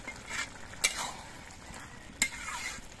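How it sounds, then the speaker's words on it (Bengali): Lau ghonto (bottle gourd curry) being stirred with sugar in a pan, giving soft scraping and a steady faint sizzle, with two sharp utensil knocks against the pan. "চিনি দিয়ে বেশ ভালো করে নেড়ে চেড়ে মিশিয়ে নিলাম"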